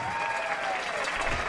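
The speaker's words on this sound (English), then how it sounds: "Cashion fans, let's get on our feet and give a round of applause for your perfect 14-0" Football fans applaud a 1981 state championship team at a Cashion Wildcats home game, a short burst of steady clapping from the stands with a faint whistle-like tone above it.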